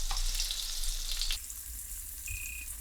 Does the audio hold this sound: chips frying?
yes